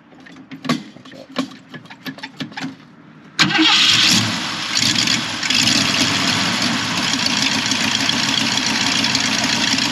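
A 1960s Ford Mustang engine cranks with a few clicks, then roars to life and settles into a loud, steady rumbling idle close by.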